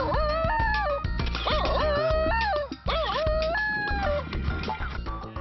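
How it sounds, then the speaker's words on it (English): A Basenji dog's high, wavering yodel-like howls, rising and falling in pitch over a dense, continuous background, loud and close with no barking. "instead of getting a barking sound like other dogs, you get a yodel or a baroo."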